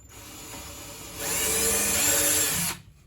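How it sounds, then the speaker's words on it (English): A power drill whirs steadily, rising to a louder, higher pitch as it bites in boring a pilot hole in a cargo trailer for about a second and a half, then stops abruptly. "I'm gonna drill a pilot hole for this first one"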